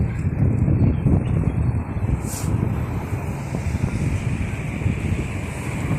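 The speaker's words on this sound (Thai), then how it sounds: "ลมแรงมาก อากาศมีแสงแดดแต่ไม่ได้ดีเลย" Strong, cold wind buffets the microphone at a riverside market, a steady loud low roar with gusts throughout and no clear speech.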